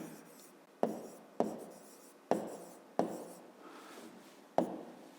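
Pen or marker writing out the answer to a fifth-grade math exercise: six sharp taps or strokes at a steady rhythm over a faint scratchy background, close and fairly quiet, with no talk.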